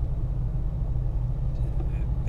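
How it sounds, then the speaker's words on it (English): Bias-ply competition mud terrain tires on a Land Rover Defender D110 300 TDi drone steadily at road speed, a loud, continuous low rumble heard from inside the vehicle. "but they're noisy, and they're not really designed for the highway"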